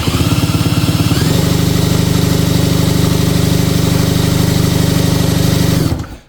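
A race bike engine on a dyno runs loud and close with a rapid, even pulsing beat that rises slightly in pitch, then cuts off abruptly near the end.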